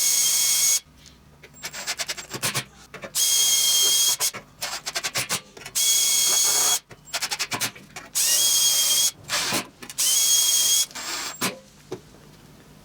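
An electric drill bores a hole through aluminium sheet pressed against a plastic block. Loud whining bursts of several seconds alternate with pauses, rattles and handling noise, close up.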